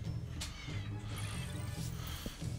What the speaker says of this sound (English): If you hear that, it's my cat again.